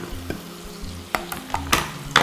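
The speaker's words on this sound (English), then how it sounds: "I need to stir." A pan of chopped tomatoes and onions frying for fish breyani is stirred, with a steady close sizzle broken by several scraping, clattering strokes of the spoon against the pan.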